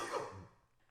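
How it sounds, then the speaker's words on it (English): A single close cough from an adult, loud at the start and trailing off quickly, heard alone without speech. "I've got a little bit of cough this week"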